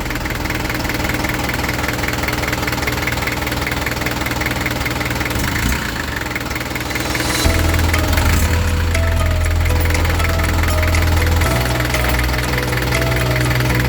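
Diesel engine idling with a knocking, vibrating rumble during injection pump adjustment, close and continuous, its low note stepping up and down as the idle setting changes.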